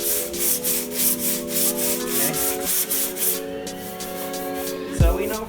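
Hand sanding a shaved tailgate on a Chevy S10 Xtreme, heard as rhythmic back-and-forth scratchy rubbing strokes, loud and close, ending with a brief thump.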